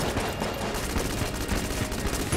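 Rapid, continuous bursts of synthetic gunfire from a video game weapon, dense and loud, like an arcade weapon firing nonstop without pause.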